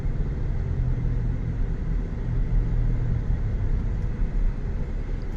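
Cabin road noise inside a moving 2023 Chevrolet Suburban Z71 with a long wheelbase, a steady low rumble and tire roar at an even, moderate level with no talking.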